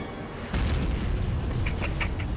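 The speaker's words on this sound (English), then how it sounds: "Are you ready for the most flaccid explosion of all time?" Rocket explosion of a ship in the video game Halo 4, a muffled boom at about half a second that rolls into a sustained rumble with crackling debris and small pops, loud and close with no talk.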